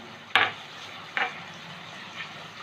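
Ginger garlic paste, made from ten garlic cloves and half an inch of ginger, fries in a pan for chicken dopiaza. A quiet, steady sizzle is broken by three short scraping stirs, with no talking.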